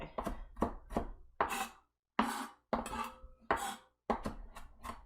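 A sharp knife finely chopping fresh cilantro on a board, heard as short bursts of quick rhythmic chops separated by brief pauses, close and fairly quiet.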